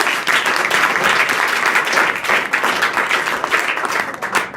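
A room full of students at a school adolescent education program applauds themselves, dense steady clapping filling the space evenly without pause.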